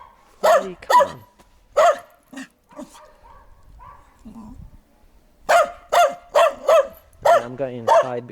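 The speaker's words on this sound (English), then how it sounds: "I'm really tired of this barking." A dog barks loudly and close by in repeated bursts: a quick pair of barks, a pause with softer whimpering sounds, then a fast run of sharp barks that ends in a long whining yelp.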